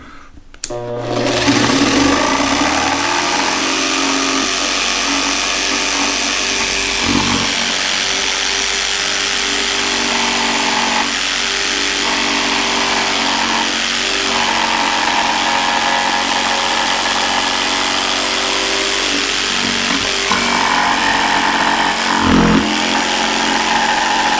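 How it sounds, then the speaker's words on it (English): A jigsaw makes a plunge cut, buzzing loud and close with a steady rapid reciprocating rattle that runs almost continuously, with slight dips in pitch as the blade works. "now I can fit my jigsaw in this way"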